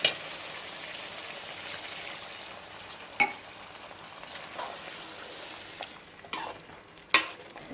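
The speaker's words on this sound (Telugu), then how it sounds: "వాటర్ పోసుకుందాం." Mutton curry frying in a pot with water poured in, a faint, steady sizzle and bubbling with occasional sharp clinks and scrapes from stirring.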